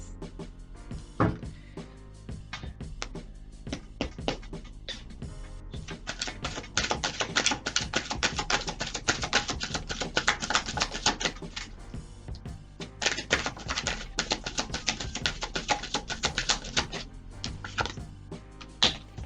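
Tarot cards being shuffled by hand, a dense run of quick crisp riffling clicks and taps that swells in bursts and continues steadily throughout, close and fairly loud with no talking.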